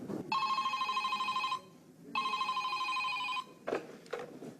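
An old-style telephone bell in a radio drama rings in two long trilling bursts separated by a pause, followed by a couple of brief clicks.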